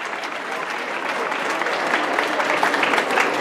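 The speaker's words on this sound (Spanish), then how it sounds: "Fuerte aplauso, por favor." An audience applauds at a school event in Spanish, a steady wash of many hands clapping that holds evenly loud throughout with no talk over it.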